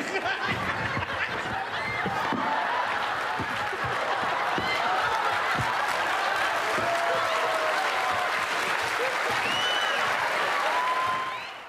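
Studio audience applauding on a French television variety show, sustained dense clapping with faint laughter and cheers mixed in, steady and loud before fading at the end.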